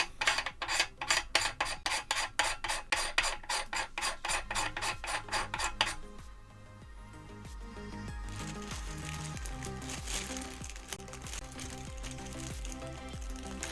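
A ring light is unscrewed from a microscope, giving a close, rhythmic series of ratcheting rasps for about six seconds before softer rubbing and handling noises.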